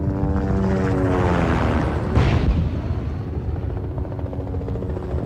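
Helicopters rise from behind hills in a German radio drama, their rotors and engines forming a loud, close, throbbing roar with a rhythmic chop that swells and then holds steady, with no voices over it.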